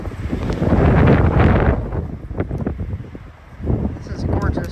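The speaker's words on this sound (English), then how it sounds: "Wind" Strong wind at the edge of Tinker Cliffs on the Appalachian Trail, roaring and buffeting the microphone in loud, rolling gusts that ease off briefly before surging again.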